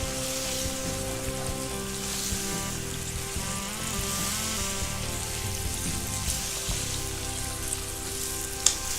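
Lamb meat frying in a pan over high heat gives a dense, steady, close sizzle with a sharp pop near the end and no talking.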